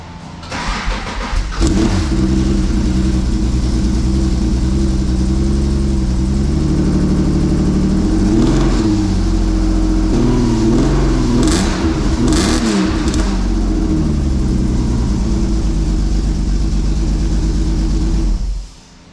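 A Subaru SVX engine with a newly finished exhaust cranks and starts, then idles with a raspy note and is blipped through several rising and falling revs before shutting off, loud and close throughout.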